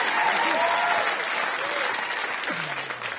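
A crowd applauding steadily throughout, with a brief faint voice or tone sliding down near the end.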